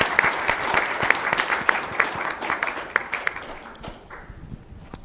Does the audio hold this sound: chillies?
no